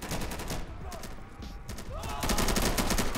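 Dense, continuous bursts of video game gunfire, a rapid fusillade of shots that swells louder toward the end, with players talking faintly beneath the clatter.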